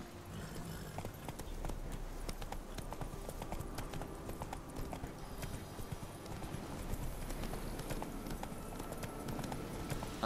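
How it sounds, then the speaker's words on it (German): Horse hooves galloping in The Witcher 3, a quiet, fast and continuous clip-clop rhythm with faint background game ambience, steady for about ten seconds and with no one speaking. "Dann mal rauf aufs Pferd."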